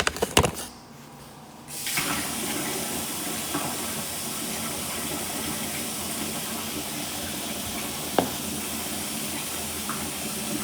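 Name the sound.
water running from a tap for rinsing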